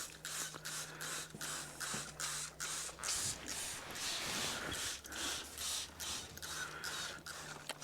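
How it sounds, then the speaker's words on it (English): Several soft hissing bursts of liquid sprayed onto wrapped beef rump cap on a barbecue, irregularly spaced, each with a brief crinkle, recorded close up with no talking. "she's just going to spray it again"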